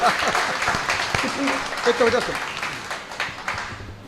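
An audience at a Hindi comedy show claps in a broad, steady wash of applause that fades slowly, with a speaker's voice and some crowd noise running over it.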